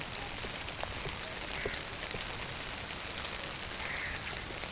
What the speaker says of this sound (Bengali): বৃষ্টি বৃষ্টি পড়তেছে